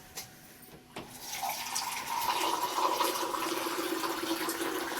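Water pours from a cup into a cooking pot for semiya kesari, a steady splashing stream that starts after a couple of light knocks and continues close and even to the end.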